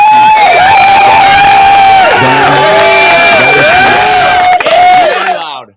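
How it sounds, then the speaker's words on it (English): A loud studio crowd cheering, whooping and applauding on cue during a talk show, a dense continuous roar with high shouts on top that holds steady before cutting off sharply at the end. "Let's give them a round of applause."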